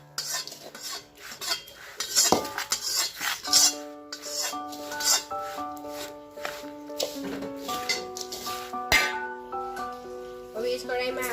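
A spoon scraping and stirring gundar pak ingredients in a pan, irregular close scrapes and clinks laid over a gentle background music track.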